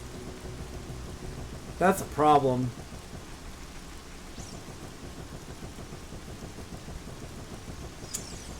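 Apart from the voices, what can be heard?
rain falling over a lake in the video game Ocarina of Time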